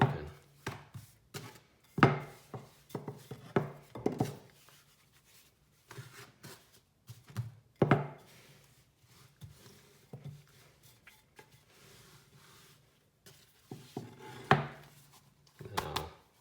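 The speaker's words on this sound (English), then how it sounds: "Just gonna roll it out." A rolling pin works flour-dusted flatbread dough in soft, irregular thumps and rubbing strokes, with quiet gaps between the rolls.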